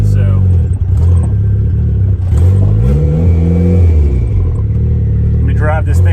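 A car fitted with a budget boost controller revs hard on a dyno up to boost cut. The engine roars loud and close throughout, with its pitch climbing and dipping as it accelerates.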